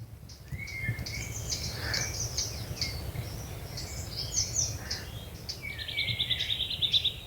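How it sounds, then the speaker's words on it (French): Warblers give repeated sharp, scolding alarm chirps nearby against a faint outdoor hiss, with quick ticking notes near the end. "là il y a les alarmes des fauvettes, là elles viennent, je pense, autour de nous"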